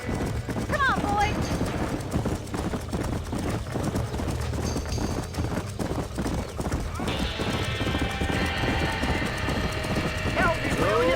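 Horses in a burning barn in the video game Red Dead Redemption whinny and neigh over continuous clattering hooves and a dense, chaotic background roar, with shouting voices mixed in throughout.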